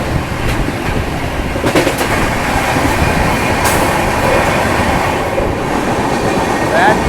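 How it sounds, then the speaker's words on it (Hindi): Goods trains standing back to back on a railway line, with a loud, steady rumble and metallic clatter of wagons and wheels throughout, and a few sharp clanks along the way. "Back to back good train लगे लाइन में, पीछे गुड ट्रेन, जस्ट आगे गुड ट्रेन।"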